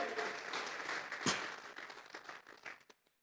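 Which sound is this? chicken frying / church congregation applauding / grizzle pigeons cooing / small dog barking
church congregation applauding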